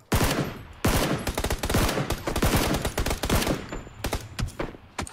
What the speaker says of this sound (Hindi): गोली बज रही गोली बज रही गोली बज रही